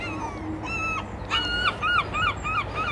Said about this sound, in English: Some birds going overhead.